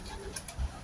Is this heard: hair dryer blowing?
no